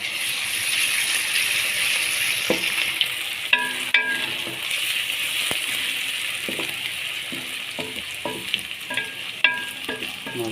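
Onions sizzle steadily in a hot pan as ginger garlic paste goes in, with a spoon clattering and scraping through the mix in short bursts. Close and fairly loud, with no voices.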